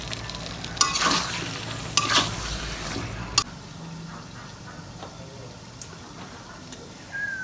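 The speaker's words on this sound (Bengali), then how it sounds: "খড়ির চুলার থেকে গ্যাসের চুলায় নিয়ে এসে বসাইলাম, পেঁয়াজটা ভেজে দিচ্ছি।" Onions fry in a pan on a gas stove, with a close, steady sizzle and three sharp scraping stirs early on before the frying settles into a quieter hiss.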